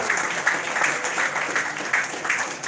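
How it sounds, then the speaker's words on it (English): Audience clapping at a Nigerian youth coalition gathering in a congregation setting, a steady dense patter of many hands at moderate distance, continuous throughout. "keep clapping"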